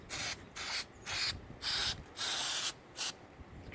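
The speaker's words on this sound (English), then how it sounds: "I've got some of this leak seal I've been spraying on, several coats" Leak seal sprayed from an aerosol can onto holes in an oak tree, a series of about six close, loud hissing bursts, each roughly a third to half a second long, separated by brief pauses.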